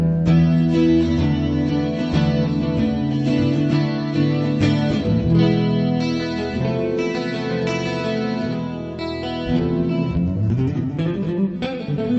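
An electric guitar processed through a Korg Pandora PX4D acoustic simulator plays strummed chords and picked notes continuously, bright and full, with no talking.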